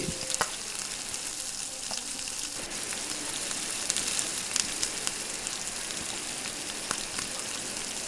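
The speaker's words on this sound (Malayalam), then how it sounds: "ചെറിയ റെഡ് ഫോം ആവുന്നത് വരെ വഴറ്റിക്കൊണ്ടിരിക്കുക." Masala sautés in a hot pan for a Kerala-style anchovy fish curry, giving a steady close crackling sizzle with scattered pops and stirring scrapes throughout.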